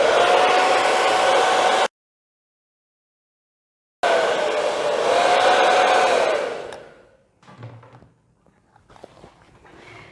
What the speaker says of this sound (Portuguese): agora eu vou aquecer a peça com o secador